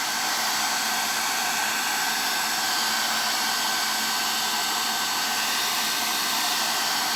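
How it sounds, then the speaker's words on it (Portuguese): A hair dryer blows steadily and loudly up close to dry a damp surface, a constant whooshing roar with no pauses or talk. "Vou dar uma secada de novo com o secador de cabelo"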